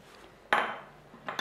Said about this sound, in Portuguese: E vamos fechar a panela novamente.